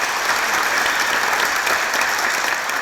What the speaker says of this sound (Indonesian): Kita berikan aplaus untuk Cinta Laura.